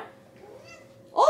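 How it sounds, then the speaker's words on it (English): A domestic cat gives a short, fairly loud meow near the end, after a quiet stretch of faint room sound. "so she meows about the banana"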